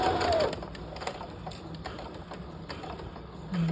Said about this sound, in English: I'm going to stitch forward right on at a 3/8 of an inch seam allowance